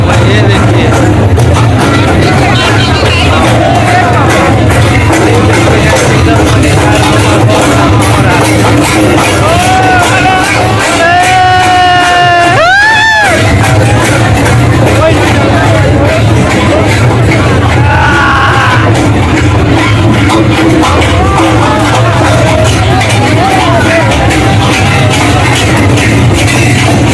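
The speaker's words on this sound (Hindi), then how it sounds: "एकदम भीड़ लगा हुआ है चारों साइड" Loud, dense crowd hubbub fills the Rajapur Dasai Karma fair of 2022 in Chhattisgarh, with Karma dancing under way. Shouts and whoops rise from a constant roar, and a brief rising whistle-like tone cuts through midway.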